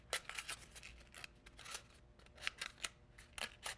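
Scissors snip repeatedly through recycled cardboard, cutting slits into a craft dinosaur, a quick irregular run of close, crisp cuts with short pauses between bursts.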